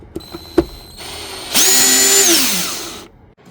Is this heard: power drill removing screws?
yes